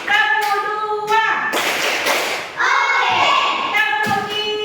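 Young pupils in a classroom run through a clapping rhythm, with bursts of hand claps and thumps alternating with a group of children chanting together.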